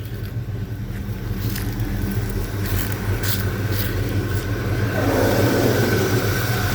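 A 1984 Chevy C10 pickup's engine runs steadily with a continuous, fairly loud low rumble that swells slightly toward the end.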